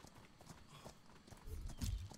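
Horse hooves clip-clopping in the video game Atlas, a few soft thuds growing louder toward the end over faint background ambience.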